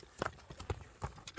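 Hooves of a horse being kept for sale clop quietly in a few irregular steps, faint and somewhat distant, with low background noise.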